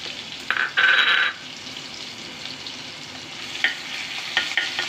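Cumin and garlic-ginger paste sizzle steadily in a hot pan, with short bursts of stirring and scraping close by.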